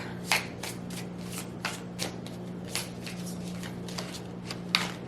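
Oracle cards being shuffled by hand in a quiet room, a steady run of soft papery riffles with a few sharper snaps, close to the listener, over a low constant hum.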